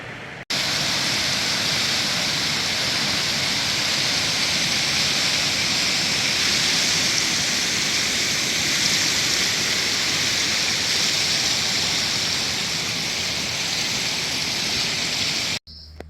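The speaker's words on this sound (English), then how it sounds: "this is where the water flows out of Lake Placid." Water flowing out of Lake Placid rushes steadily over an outlet, a loud, continuous close-up roar of splashing water with no talk.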